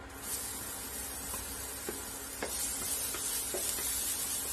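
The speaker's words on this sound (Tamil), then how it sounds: "இப்ப நம்ம நறுக்கி வச்சிருக்கிற இந்த பூண்டு சேர்த்திடலாம்." Chopped garlic fries in hot oil in a pan, giving a continuous soft sizzle and hiss with occasional light stirring clicks, close and fairly quiet.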